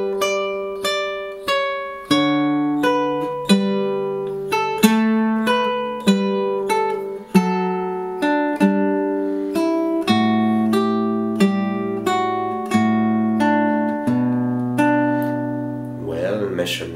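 Fingerstyle guitar plays the third part of a Toy Story 2 ballad, clear plucked melody notes over ringing bass and chord tones in a slow, steady rhythm, close and solo with no voices.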